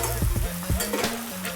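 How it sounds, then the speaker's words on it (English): Pork roll (Taylor ham) sizzles and crackles in a hot cast iron skillet, a busy frying hiss with occasional scraping and clinks of a utensil against the skillet. "we're sizzling."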